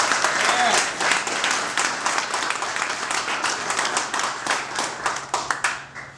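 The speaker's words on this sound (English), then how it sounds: "So massive, massive round of applause for Mike Murphy as well," Applause at a Houston Fenians club event for Mike Murphy: a loud, sustained round of clapping from a crowd with sharp individual claps, thinning into scattered claps at the end.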